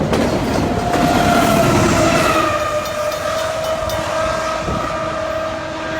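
An intermodal freight train rolls steadily past a station with a continuous rumbling roar and faint wheel clatter, a long tonal squeal running underneath.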